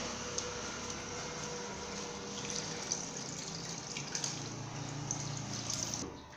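Water draining through a cloth held by its edges while washing ingredients for dry Editan soup, a steady soft trickling and splashing into a container, close and continuous with small drips, no talk.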